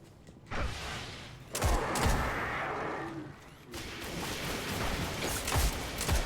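Gunfire in a video game with a sniper rifle, a few sharp reports spread across the clip over a steady noisy background, with no talking.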